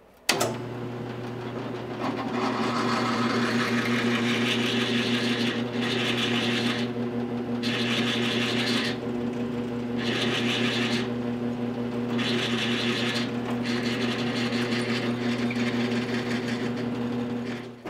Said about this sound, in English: I'm going to go ahead and drill all four and then come back, change this over to the tap and get the tap started and tap all the holes